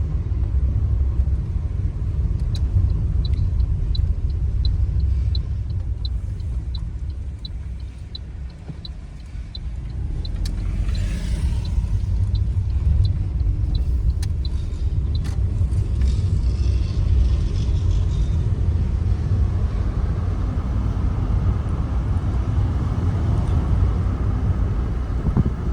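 A car rolls through the suburban streets of Waterkloof in Pretoria, a steady low engine and road rumble heard from inside, easing briefly midway before settling back, with faint wind noise and no talk.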